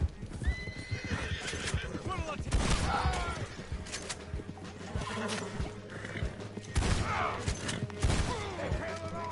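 A horse in the Western video game Red Dead Online whinnies loudly several times amid clip-clopping hooves, with scattered gunfire and a voice talking over the action.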